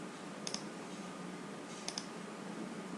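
Mouse clicks while drawing an ellipse in SolidWorks 2013, two quick double clicks about a second and a half apart, sharp and close over a steady background hiss with no talking.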